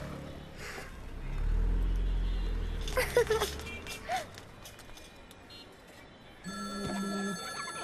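A mobile phone rings in short bursts near the end, over low rumbling background noise and faint voices.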